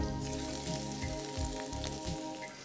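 Garlic dropped into a pan of hot fat with a little flour, making a steady, close sizzle and crackle with soft popping bursts throughout, no talking.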